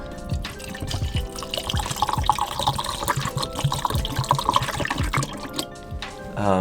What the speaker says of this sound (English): After the developer is out of the tank, you can go ahead and pour in the Blicks.